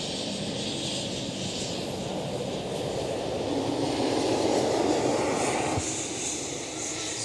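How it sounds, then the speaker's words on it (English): A jet engine on an airliner at Schiphol airport winds down while shutting down, a loud, steady, broadband roar that holds for several seconds and then drops slightly near the end. "So, and that's one engine shut down."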